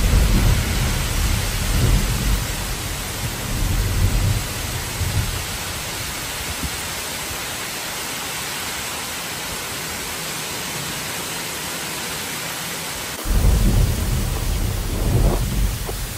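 Dense, loud downpour roaring continuously with low rumbles of thunder rolling in and out, briefly thinning before surging again.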